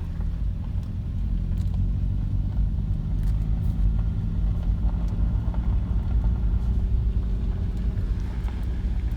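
A car rolls along a dirt road at night with a steady low rumble of tires and engine, broken by scattered small knocks and ticks from the rough surface, close and constant throughout.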